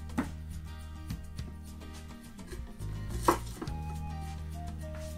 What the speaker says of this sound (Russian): Как видите, очень легко они нарезаются.